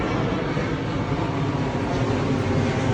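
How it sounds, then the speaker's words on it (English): Airplanes passing over a forest preserve in Wooddale, Illinois, a steady broad rumbling roar that holds loud and even throughout, with no voices. "You can hear all the airplanes here."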